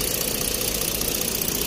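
Engine of a 2012 Ford Taurus idling steadily just after a water pump and timing chain replacement, a close, continuous rumbling drone with no voices.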